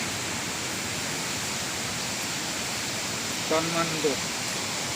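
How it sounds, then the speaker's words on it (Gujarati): Tan Man waterfall at Ahwa in Dang pours with a steady, loud, broadband rush that fills the whole stretch, with a few faint voice fragments near the end. "આ ધોધનું નામ છે તનમન ધોધ"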